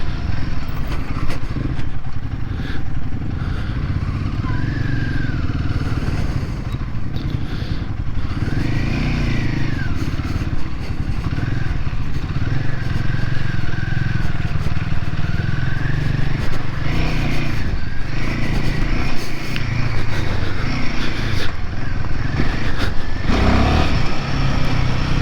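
Royal Enfield Himalayan 450 motorcycle riding through muddy ruts, a loud, steady engine drone with shifting revs and clattering chassis noise under occasional short rises in pitch.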